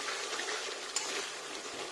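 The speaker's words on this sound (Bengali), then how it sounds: "আলুটাও রেডি হয়ে গেছে আর মশলাটা দিয়ে বালতির মধ্যে এটাকে নেড়ে দেবো" Boiled potatoes are stirred with spices in a bucket. The mixing makes a steady, close scraping and squelching hiss with no pauses, and one small knock comes partway through.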